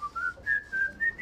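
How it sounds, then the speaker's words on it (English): A person whistles a short melodic tune solo, the clear rising notes broken into a few phrases over a quiet room, close and fairly loud with no talking. "Could you whistle that for me?"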